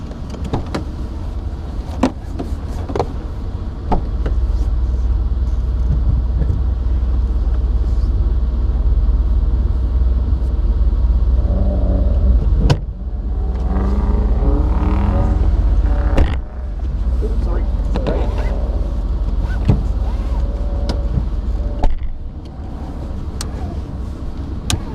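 A Mitsubishi Evo at a PittRace track-day school, heard from inside the cabin: a loud, steady low engine and road rumble running continuously, with brief thumps and faint murmured talk partway through.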